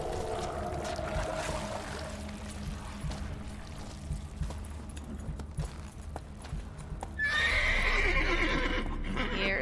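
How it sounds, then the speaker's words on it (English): A horse in the video game Witcher 3 snorts and shuffles its hooves, then gives a clear, fairly close neigh near the end over a low ambient background. "Here's your horsey."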